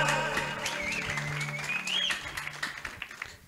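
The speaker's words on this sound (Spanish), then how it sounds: "denle fuerte aplausos a Dios" A church congregation applauds with a dense burst of clapping under a sustained electronic keyboard chord and swelling music, loud and close.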